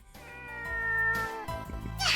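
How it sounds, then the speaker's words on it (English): A kitten in the Muv-Luv Extra visual novel lets out a single drawn-out meow, close and clear, rising toward the end. "This kitten is so cute."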